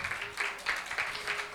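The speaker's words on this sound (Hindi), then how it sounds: "यीशु मसीह के लिए जोरदार तालियां बजाएं।" A church congregation claps in a steady rhythm, a fairly faint, roomy patter of many hands pulsing several times over about a second and a half, with a low hum beneath.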